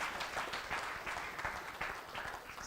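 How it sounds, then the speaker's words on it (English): An audience at an agricultural symposium gives a panel another round of applause, a steady wash of many hands clapping at moderate distance, fairly even throughout. "Let's give them another round of applause"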